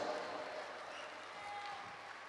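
Audience applause welcoming comedian Rajesh Thiruvambady on stage at a Christmas and New Year festival in Kuwait, a steady wash of clapping at a moderate distance that holds evenly throughout with no talking over it.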